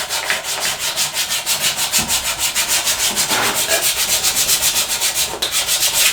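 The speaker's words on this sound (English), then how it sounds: "I'm not doing a heavy sand, just a light sand" Hand sanding lightly over an antique wooden bed gives rhythmic back-and-forth rubbing strokes, close and steady, with no talking.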